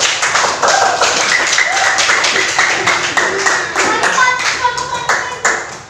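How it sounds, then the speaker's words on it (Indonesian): Classroom applause for a student group, with Indonesian students and teacher clapping together in a room, a dense patter of many hands that stays steady and loud through the whole stretch while voices murmur faintly underneath. "tepuk tangan buat kelompoknya Vera"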